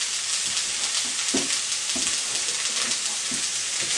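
Spices with cumin, coriander and black pepper fry hard in a pan for a wild garlic dish, a loud, steady sizzle with soft stirring scrapes now and then, close and with no voices.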